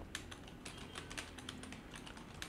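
Someone types a prompt on a computer keyboard in quick, irregular keystrokes, soft and close, with brief pauses between bursts and no speech.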